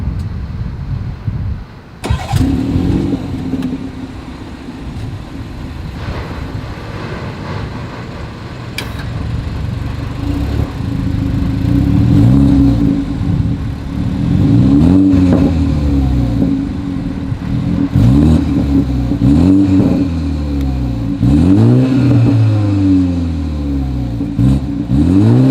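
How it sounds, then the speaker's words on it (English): A 2022 BMW 330i starts up with a sharp burst after a brief hush, then settles into a steady idle. Several loud, rising exhaust revs follow close by, each climbing and falling back, with no talking. "As always, here is that exhaust clip."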